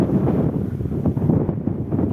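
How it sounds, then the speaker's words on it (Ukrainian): Strong wind buffeting the microphone in low, gusty rumbles that rise and fall, loud and close, with no talking. "Ох, вітер дує страшне."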